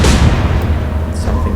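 Naval guns firing in the Atlantic Fleet video game: one loud, close boom that trails off into a rumbling decay, followed by a brief faint splash-like hiss.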